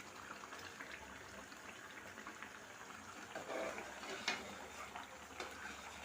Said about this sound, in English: see the oil is on the fire already. This is it. It's boiling already. It's boiling.